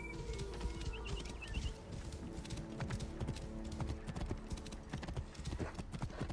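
Horse hooves clip-clop steadily in Assassin's Creed Origins, a brisk even rhythm of close hoofbeats with faint birds and game ambience behind.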